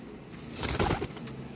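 A pair of Rampuri pigeons, male and female, coo softly and close by in a single brief burst that swells and fades, over a faint steady background hum.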